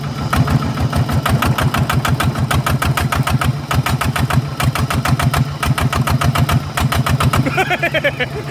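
A loud engine runs hard and fast, its rapid pulsing exhaust note holding high revs throughout with a slight shift near the end.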